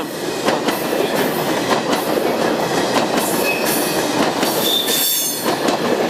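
A train rumbles along the rails with rhythmic clatter and occasional high metallic squeals, loud and continuous.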